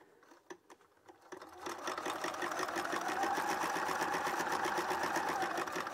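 Electric sewing machine chain piecing nine patch quilt blocks, starting with a few soft needle taps and then running steadily in a close, continuous rapid whir with no talking.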